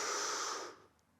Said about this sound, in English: I'd be breathing in on the way up